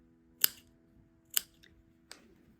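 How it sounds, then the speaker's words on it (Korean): Fabric scissors snipping the corners of sewn blouse fabric: three sharp, separate cuts spaced about a second apart, close and crisp against a quiet room with a faint hum. "모서리 잘라주고"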